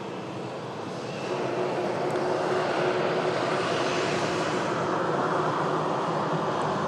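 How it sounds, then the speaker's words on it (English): A Ryanair Boeing 737-800 arriving from Oslo, a steady broadband jet roar that swells slightly after the first second and holds evenly, moderately loud and unbroken. "Coming in from Oslo. Ryanair 737-800."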